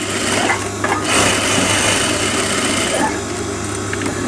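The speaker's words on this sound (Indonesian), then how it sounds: "Diulang lagi tuh, dijahit bawahnya kantongnya supaya kuat ya" Close and loud, a sewing machine runs steadily as it stitches the bottom of a trouser side pocket, its whirring rattle and motor hum continuing for the whole stretch.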